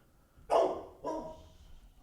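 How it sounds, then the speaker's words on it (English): A dog barks twice in quick succession, two sharp, fairly close woofs with a short pause between them. "Having a bark at the mailman."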